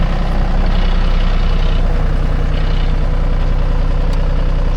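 A John Deere 5300 tractor of about 55 horsepower runs steadily nearby, its loud low diesel rumble holding constant throughout, with no talking over it.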